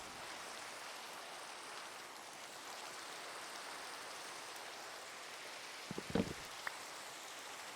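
Steady, even rain falling in Minecraft, a continuous soft hiss throughout, with a couple of brief faint knocks near the end.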